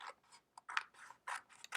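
Scissors snipping through two stacked sheets of paper, a series of short, crisp cuts in an uneven rhythm, close and quiet with no talk.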